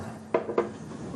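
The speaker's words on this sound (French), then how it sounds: "du bruit de vaisselle." Dishes clatter twice in an apartment kitchen, two short, close clinks a fraction of a second apart, over a low room hum.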